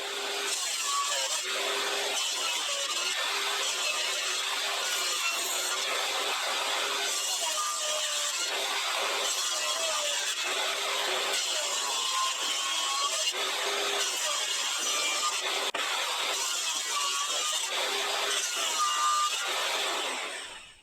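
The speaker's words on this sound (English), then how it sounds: "Once it had been through the table saw," A table saw runs continuously on a piece of scrap wood, a loud, steady whine with a faint rising and falling cutting tone as the blade works through the board, heard close and alone.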